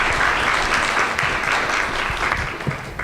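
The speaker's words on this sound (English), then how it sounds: "Let's give all the presenters one more round of applause before they switch" Audience applause for the presenters at the close of a conference panel session, a steady dense round of clapping that fills the whole stretch at even loudness with no talk over it.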